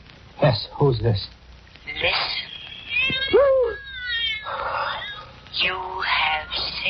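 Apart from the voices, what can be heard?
cat meowing over the telephone, radio drama effect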